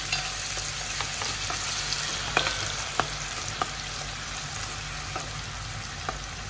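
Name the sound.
chopped onion sautéing in a pan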